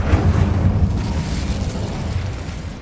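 An Incendio fire spell in Hogwarts Legacy lands as a deep, rumbling whoosh-boom that swells at the start and then rolls away into a fading low roar, loud and heavy, with no talking.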